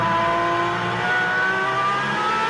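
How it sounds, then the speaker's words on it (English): On board a Superleague Formula race car, the Olympiacos entry, its engine screams loud and close as it climbs through fourth and fifth gear, with rising pitch between shifts and no talk. "There is 4th gear, 5th gear, and on board with the Olympiacos car."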